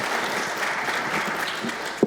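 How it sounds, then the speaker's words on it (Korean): A crowd claps continuously at a project agreement signing ceremony in Ulleung County, with steady, even applause throughout. "큰 박수 부탁드립니다."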